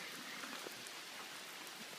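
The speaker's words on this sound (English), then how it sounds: "It's raining, and I'm going to walk up from Roaring Brook parking lot to Chimney Pond." Steady rain falling outside a tent near Roaring Brook in the woods, a soft continuous patter with scattered individual drops, faint and even throughout with no voices.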